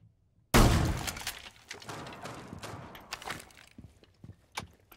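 Glass shatters loudly and suddenly in Rainbow Six Siege, a sharp crash followed by scattered tinkling debris and footsteps fading out over a few seconds.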